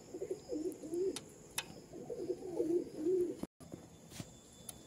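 Fancy pigeon chicks coo softly in low, rolling bursts, close and fairly quiet, with a few brief clicks and one short dropout partway through.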